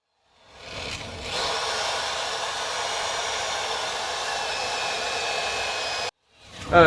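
Wire wheel on a power tool spinning against metal to scrub off debris, a steady loud whirring grind lasting several seconds before cutting off abruptly, then starting up again.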